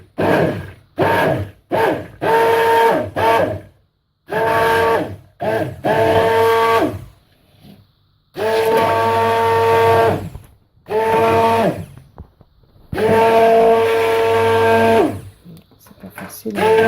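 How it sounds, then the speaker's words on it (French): An immersion blender runs in short intermittent bursts while mixing oils and lye for cold-process soap, a loud whirring motor separated by brief pauses, close by. "on plonge bien son mixeur plongeur au fond"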